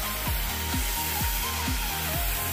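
A Fortech K3 gravity spray gun sprays paint with a steady, loud, close air hiss, while a rhythmic low thudding repeats about every half second beneath it, with no voices.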